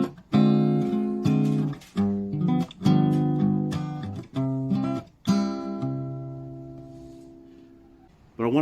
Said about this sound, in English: Typically it's used as a replacement for the 2 chord in a 2-5-1 progression.